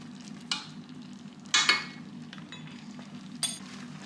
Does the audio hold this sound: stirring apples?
yes